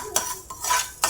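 Dry poha being stirred and roasted in a second kadai, with short metallic scrapes of a spoon against the pan in a few separate strokes, close and fairly quiet.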